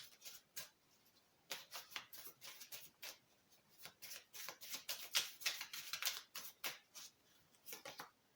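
Tarot cards are shuffled by hand in a quiet room, giving a series of soft, crisp riffling bursts and taps in uneven clusters, close and fairly faint, with no talking.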